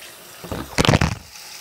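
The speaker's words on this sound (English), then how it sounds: "I want to wash out my sink real quick before brushing my teeth or anything else." A short splash of tap water running into a bathroom sink as it is rinsed out, a brief gushing burst under a second long, close by with no speech.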